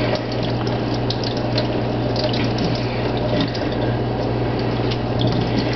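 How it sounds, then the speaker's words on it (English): Running water rinsing makeup brushes, a loud, steady, close rush of flow with a low hum underneath and no breaks or talking. "So you just want to rinse really, really, really, really well."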